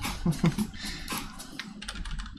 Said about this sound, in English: I'm typing that too